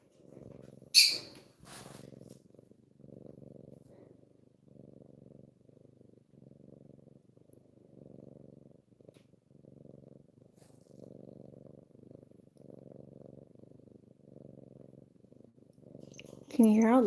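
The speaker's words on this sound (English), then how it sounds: "Can you hear how loud he's purring?" A pet cat purrs loudly and steadily up close, its rhythmic rumbling pulses running almost the whole way through, with a brief voice at the start and another at the very end.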